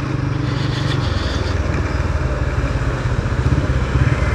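A motorbike engine hums steadily and loudly as it rides a round through the Race Course area of Rathina Sabapathi Puram in Coimbatore, with continuous close drone and no talking.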